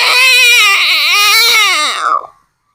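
A voice lets out a shrill, wavering, drawn-out squeal imitating a frog screaming in distress, loud and close, fading out at the end.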